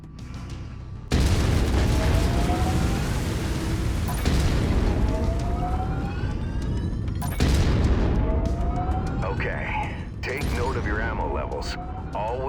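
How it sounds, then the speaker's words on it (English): Heavy mech autocannon fire in MechWarrior 5: Mercenaries, loud booming bursts sounding about every three seconds over a constant rumbling game backdrop, with no voices over the shots. "I've mapped the autocannon to Weapon Group 1. You're free to fire whenever you're ready."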